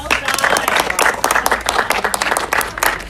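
A short burst of group clapping for the pre-merge Survivor contestants in Sydney, dense and steady, with crowd noise and some voices underneath.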